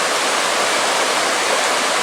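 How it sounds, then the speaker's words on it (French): Clear, trout-filled river flowing through wild Aveyron countryside, a steady, close rushing wash of water with no pauses and no voices. "c'est quand même une belle rivière, bien claire, beaucoup de truites"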